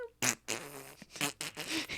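A man lets out a series of fart noises, several short blurting bursts with brief gaps between them, loud and close with no talk over them.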